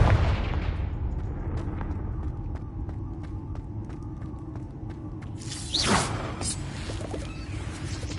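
The Confringo fire spell in Hogwarts Legacy lets off a dense, rumbling blast at the start that fades under a steady rush of combat noise, with a run of faint crackling ticks and a bright whooshing flare near the end.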